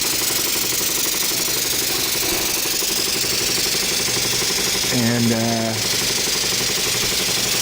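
A Stuart 501 vintage steam engine runs on its overfilled boiler, giving a steady, continuous mechanical chugging at close range, with a short tonal hiss or whine rising briefly near the end and a single spoken word.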